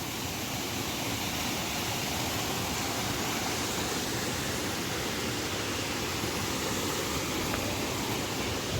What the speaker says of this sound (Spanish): Cómo bajan las cascadas.